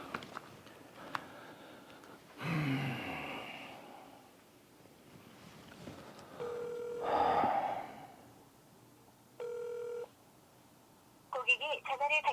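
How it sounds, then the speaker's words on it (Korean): A series of electronic keypad tones as a phone number is dialed, short beeping bursts spaced apart, with a loud breathy noise and soft background sounds between. "안 되겠다. 전화 한번 해봐야 되겠다."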